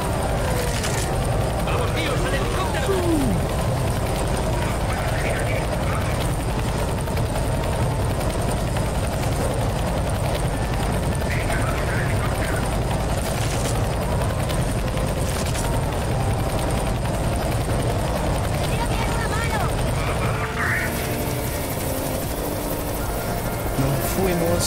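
Helicopter in the video game Left 4 Dead 2, a steady loud rotor drone running throughout under busy game noise and players talking, with occasional bursts of gunfire.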